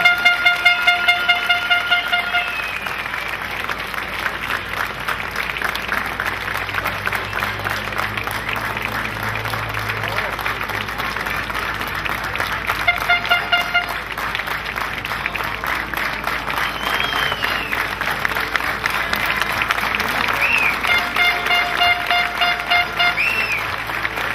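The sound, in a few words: crowd applause at rally award ceremony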